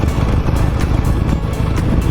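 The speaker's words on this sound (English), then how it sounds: "Hear my motorcycle, hear me roar." A 17-year-old Harley-Davidson Nightster motorcycle roars loudly and continuously at close range, with its engine rumble mixed with rushing wind.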